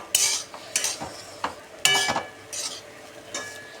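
Onion and coriander frying in a pan for shili poli churma, heard as about seven separate bursts of scraping and stirring with a spatula, close and moderately loud, with quiet gaps between them and no talking.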